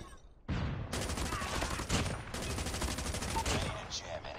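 Chopper LMG light machine gun in Call of Duty Mobile firing long sustained bursts of rapid automatic fire, loud and close, with a short pause between two strings of shots.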